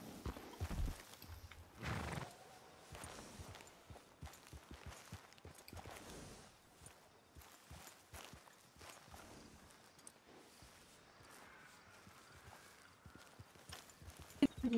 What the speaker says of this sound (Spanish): hay una cantidad inmensa de caballos aquí